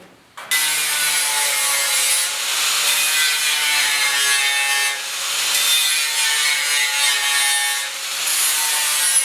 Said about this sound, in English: So I'll just give these a bit of a grind